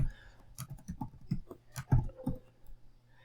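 Light clicks tap out on a computer keyboard in short uneven bursts while someone writes code for a blog editor, soft and close with faint room tone.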